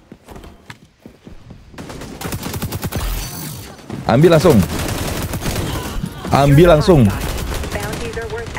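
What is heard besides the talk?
gunfire in the video game xDefiant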